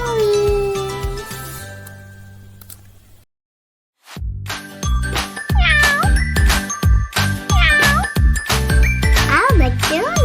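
A pet cat meows several times in quick succession, each meow clear and close, following a steady tone and a short silence.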